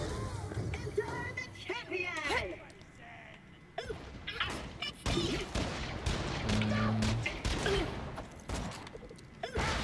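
Rockets and gunfire in the video game Borderlands: The Pre-Sequel sound in bursts of blasts and crashes, mixed under frequent excited talk from a player throughout.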